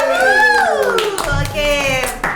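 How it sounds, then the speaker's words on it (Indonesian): Audience applause for a magician at a magic community show, a burst of clapping running beneath a loud, excited voice that dominates the clip. "Oke, tepuk tangan sekali lagi tuh Mas Yoga."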